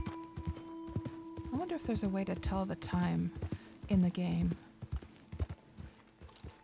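Horse hooves clip-clop at a steady walking pace in a night-time Red Dead Online free-roam session, with someone talking over the rhythmic thuds.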